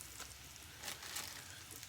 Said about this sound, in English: I think this is frying.